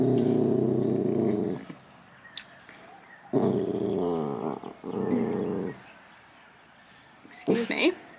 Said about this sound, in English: So, Dusty is our little rescue dog.